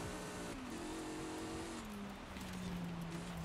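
DeLorean DMC-12 rally build in Forza Horizon 5, engine droning steadily near and loud, pitch easing down as the throttle lifts through a drifting corner, with faint tire scrub and no talking.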